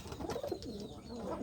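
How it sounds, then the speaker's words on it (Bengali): A pigeon, a fresh medium-sized bird kept in a loft, gives a soft, brief coo, faint and fairly close, with a little low background noise. "এইখানে একটা আছে, এই যে এই কবুতর"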